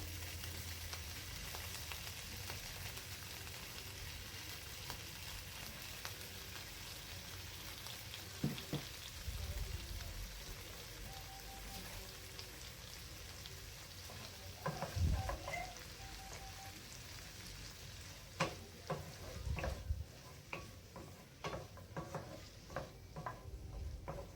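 Broccoli blanched in salted water cooks in a pan with a faint steady sizzle and soft hiss, joined by occasional stirring clatters and scrapes, with no talking.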